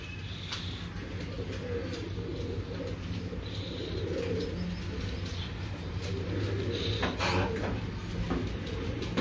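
A Salara Daddy pigeon known as Batista, a Rampuri-type bird, coos softly in low repeated murmurs against steady background noise, with a few faint higher chirps from other birds.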